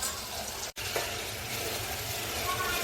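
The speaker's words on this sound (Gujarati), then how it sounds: "ડુંગળી અને લસણ સરસ મજાનું ફ્રાય થઈ જાય એ પ્રમાણે આપણે છે ને એમને તેલની અંદર શેકવાનું" Onion and garlic paste fries in hot oil for pav bhaji, making a continuous, dense sizzle that briefly cuts out for a moment, then carries on steadily and close.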